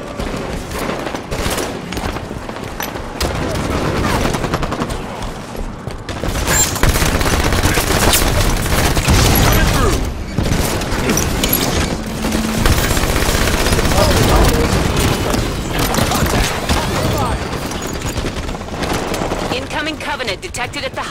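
SMG gunfire in Halo 5: Guardians Warzone rattles in dense, loud bursts over a chaotic battle backdrop with explosions and booms, continuing almost without pause throughout while voices talk underneath.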